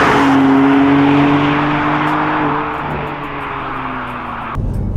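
A BMW M2 Competition engine drones steadily from inside the cabin while driving, the pitch sliding gently down before the sound cuts abruptly near the end.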